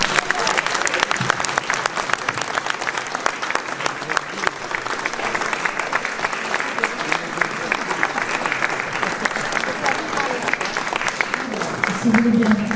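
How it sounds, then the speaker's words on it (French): A standing ovation at an opera and dance book award ceremony, with dense, steady clapping from a large audience lasting the whole stretch and a few voices murmuring underneath. "j'invite tout le monde à applaudir une étoile comme il se doit par une standing ovation"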